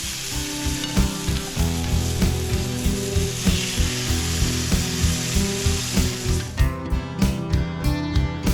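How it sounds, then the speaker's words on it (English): Tuna steaks sizzle and fry in a covered pan, a steady dense crackle over a low hum running throughout without talk, with the cover's rattle and sharper ticks near the end. "Add your tuna steaks and close the cover."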